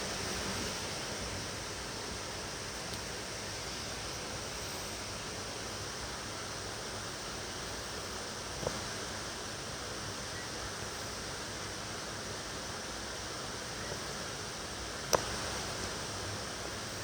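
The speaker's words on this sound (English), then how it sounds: "It's a river." A steady, broadband rush of flowing river water, continuous and fairly even throughout, with a faint click or two rising briefly above the wash.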